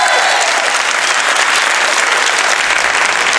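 A television studio audience at the Folies Bergère for the show Double Jeu applauding, a loud, dense and unbroken roar of clapping with a hint of crowd noise mixed in.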